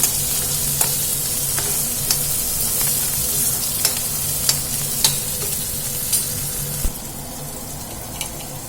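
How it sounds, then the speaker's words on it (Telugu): Onion pieces and green chillies fry in a pan for a sesame-spiced curry, giving a loud, constant sizzle with sharp spatula clicks every half second or so, close up and with no talk. "తర్వాత ఉల్లిపాయ ముక్కలు కొంచెం ఫ్రై కావాలి"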